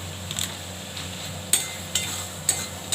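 Potatoes going into a pan of fish curry and being stirred, soft clinks and scrapes of a utensil against the pan at irregular intervals over a low, quiet background.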